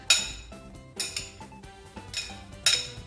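Salad servers clink and scrape against a bowl as an avocado salad with parsley, salt and pepper is tossed, giving several bright, rhythmic clatters close by with no talking.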